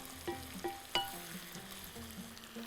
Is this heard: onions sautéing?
yes